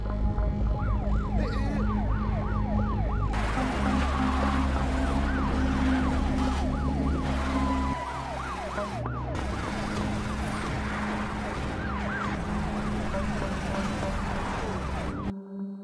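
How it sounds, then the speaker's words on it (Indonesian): A police car siren wails during a chase in an Indian film, its rising and falling tone repeating fast over engine rumble and a low musical drone, loud and continuous for the whole passage with a shift midway. "Gautam segera menghidupkan sirine polisi dan mereka pun melakukan pengejaran."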